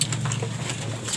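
Pigeons in a backyard coop give soft, close coos over a low background hum, with a few brief calls scattered through the short moment.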